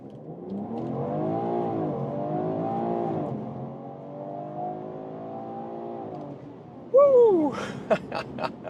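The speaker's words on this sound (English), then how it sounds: "Launch control." A BMW Alpina B3 GT with its 3-liter six-cylinder pulls away under launch control on a Mallorca racetrack, the engine note rising in strong sweeping pulls through several gears, loud and close, before a voice shouts briefly near the end.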